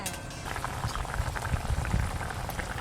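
A pot of hilsa fish curry broth with cauliflower bubbles at a vigorous boil, a steady close burbling and popping that carries on without pause and with no speech.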